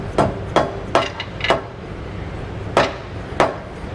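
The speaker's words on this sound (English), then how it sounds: "take a soft blow hammer and hit it right on this back side" Soft blow hammer striking the back side of a Curt trailer hitch receiver to line up bolt holes on the frame rails: six sharp, close knocks in two uneven groups with short pauses between, no voices.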